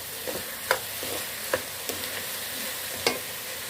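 Cooked rice being stirred into sugar syrup in a pot for mutanjan, a sweet rice dish, giving soft wet scraping and bubbling with several sharper spoon knocks against the pot, steady and close, with no talk.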